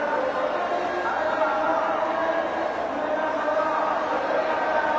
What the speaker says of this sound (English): Crowd that turned out not so happy with Indians' performance at the moment.